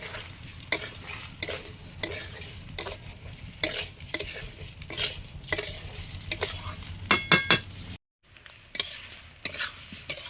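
Moong dal dry-roasting in a pan while a spatula stirs it in repeated scraping strokes, with a steady sizzle underneath and a brief clink of utensils near the end, close and moderately loud with no talk.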